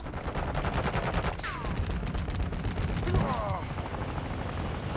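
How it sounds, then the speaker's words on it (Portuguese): Helicopters and gunfire from the Call of Duty Modern Warfare 2 video game on an Xbox Series S blend into a continuous dense barrage of shots and rotor noise. "Olha o Bidu tryhardando com os helicópteros."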